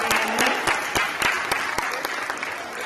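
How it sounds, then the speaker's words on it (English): A hall audience at the ACHS winter school concert claps for the chorus, a loud, dense burst of many hands that gradually thins toward the end. "One more round of applause for ACHS"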